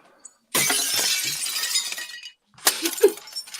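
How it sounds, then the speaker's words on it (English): Glass shatters loudly in a sustained crash, followed by a short pause and a second burst of smaller breaking and tinkling fragments. "It's glass breaking."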